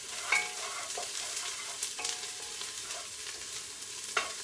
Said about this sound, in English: Something in there is making it snap and pop up at me.